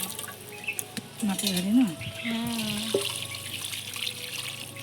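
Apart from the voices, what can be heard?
water being poured into a cooking pot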